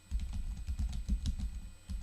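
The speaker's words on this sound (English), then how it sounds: "we just want to type our title" Quick, fairly soft keystrokes on a computer keyboard as a blog title gets typed, an uneven run of close clicks with a short pause near the end.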